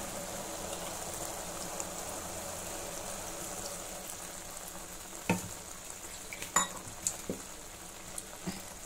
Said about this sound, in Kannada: ಖಾರ ಒಂಚೂರು ಬೇಯಲಿ, ಖಾರದ ನೀರು ಹಾಕಿದ್ದೀನಲ್ಲ, ಒಂದೊಳ್ಳೆ ಮಿಕ್ಸ್ ಕೊಟ್ಬಿಡೋಣ